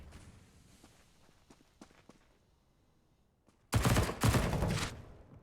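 A Counter-Strike match on the Dust 2 map brings a few faint footsteps and taps, then a sudden loud burst of close gunfire, heard alone with no voices.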